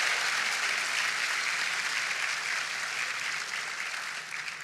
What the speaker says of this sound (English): Please give Ashton Thomas another round of applause